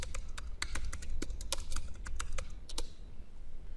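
Rapid, irregular keystrokes on a computer keyboard while text is typed into a Word document, a quick run of light clicks for about three seconds before tapering off.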